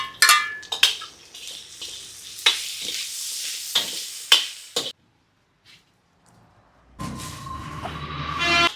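Tank prawns fry with onions, tomatoes and chili in a pan: a loud sizzle broken by sharp scraping stirs and utensil clicks, then near silence for a couple of seconds before the frying hiss returns strongly.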